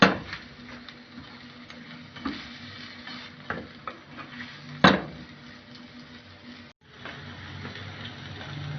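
Green onions sizzle gently in a pan while a utensil stirs them with soft scraping and occasional sharp knocks against the pan, heard up close with no talk.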